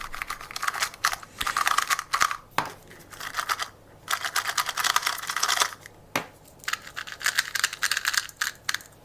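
Rapid plastic clicking and clacking from a 2x2 speed cube being turned, in busy bursts with brief pauses, close and crisp, like small pieces snapping and turning repeatedly.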